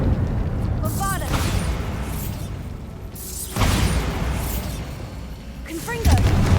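A Bombarda blasting spell explodes in a Hogwarts video game, with booming bursts and whooshes that swell and crash several times while a voice speaks over the blasts.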